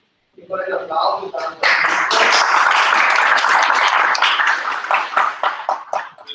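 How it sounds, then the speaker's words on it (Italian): Audience applause at a presentation event in Veneto, a burst of many hands clapping that swells quickly to a dense, loud roar, then thins into scattered individual claps toward the end. "Vorrei l'applauso."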